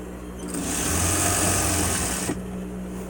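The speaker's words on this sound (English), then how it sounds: "And then just basically you just sew a 1/2 inch at the top." Sewing machine stitching a half-inch hem along the top of a large pull-string fabric bag, a close steady whirring run of about two seconds that begins and ends abruptly against a quiet hum.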